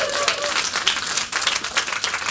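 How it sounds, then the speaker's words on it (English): An audience applauds and cheers for Michael at a business kickoff event, steady clapping from a crowd filling the room throughout, with some voices mixed in. "So let's give him a cheer again"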